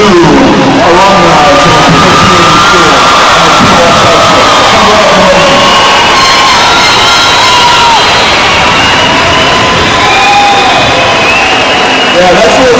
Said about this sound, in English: One more big round of applause for these new alumni.